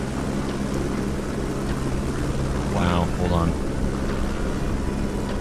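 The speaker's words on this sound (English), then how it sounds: "that helicopter's really loud" Loud helicopter passing overhead, a steady broadband rotor roar filling the whole clip, with a man briefly exclaiming over it partway through.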